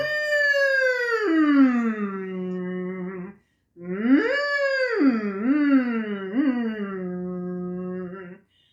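A single voice slides smoothly up and down in long humming sirens, sustained glides with a short breath pause between phrases.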